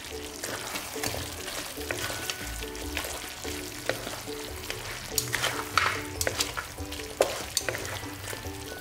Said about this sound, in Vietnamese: Các bạn đảo đều lên một lần nữa rồi mình sẽ tắt bếp